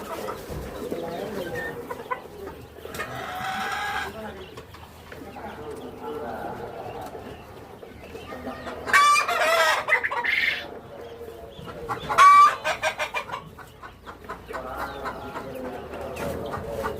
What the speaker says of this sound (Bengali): বিদেশি মুরগি তো, হ্যাঁ বিদেশি মুরগি।